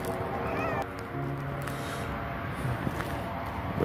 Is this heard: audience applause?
no